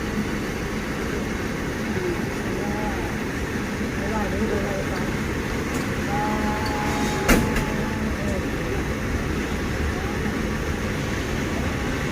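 A train passing on a double-track railway near a station, heard as a steady rumbling roar with a brief clank partway through, while someone talks over it the whole time.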